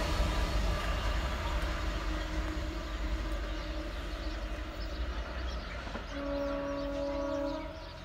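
A freight train horn sounds twice, a shorter tone and then a longer, louder blast, over the heavy rumble of the passing train.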